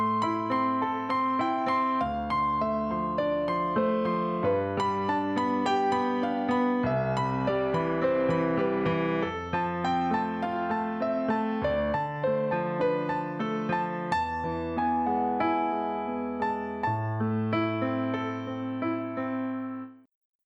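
A piano plays a Passacaglia arrangement with both hands, a steady left-hand bass line under a right-hand melodic phrase, sustained and continuous for about twenty seconds before the final chord fades out.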